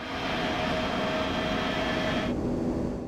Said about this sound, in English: this video features Captain Sims, Boeing 767-300, landing in Venice Tessera International Airport in Venice